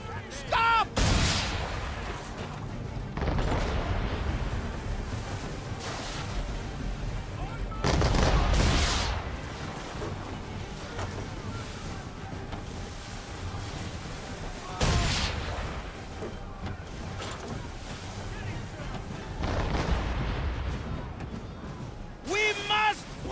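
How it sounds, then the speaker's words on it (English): Cannons fire at a ship in Assassin's Creed 3, heavy booming blasts arriving every few seconds over a rumbling battle backdrop, with a voice speaking between shots. "Why are you shooting my ship?"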